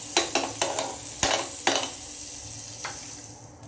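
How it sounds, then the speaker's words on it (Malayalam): Butter sizzling in a hot sandwich maker, a soft continuous frying hiss broken by several sharp scraping taps of a utensil, fading slightly toward the end. "ഇതിനകത്തോട്ട് കുറച്ച് ബട്ടർ ഇട്ട് കൊടുക്കാം."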